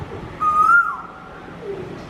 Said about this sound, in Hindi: ఏమి పాడుతున్నావు, ఎవరిని పిలుస్తున్నావు, చెప్పు కోకిల రాణి